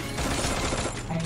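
Dense, rapid gunfire from an XM8 rifle in Free Fire crackles continuously in a short burst, loud and close, with mechanical rattling mixed in.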